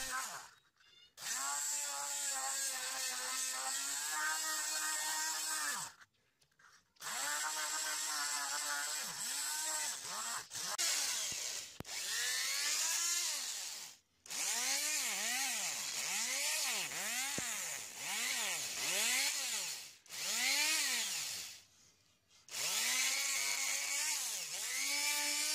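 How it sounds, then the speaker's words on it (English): A power tool whines steadily while it polishes the intake and exhaust ports of a Honda D16Z6 VTEC cylinder head, running in long bursts separated by short pauses, with the pitch rising and falling as it loads up. "I also tried using some oil, WD-40, in the polishing process to see if that would work any better."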